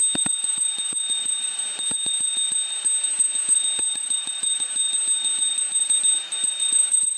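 A bell rings continuously with a bright, high metallic tone, accompanied by a rapid irregular ticking or clapper tapping.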